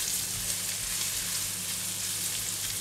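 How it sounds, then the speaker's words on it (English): Ginger strips stir-frying in hot garlic oil, a steady, dense sizzle that holds at an even level throughout, close and unbroken, with no voices over it. "When oil is getting hot, add in ginger strips. Stir fry until fragrant and soft."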